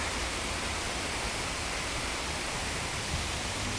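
Weak, drought-reduced flow at Indian Leap Falls on the Yantic River in Norwich, Connecticut, heard as a steady, even rush of falling water with no change throughout.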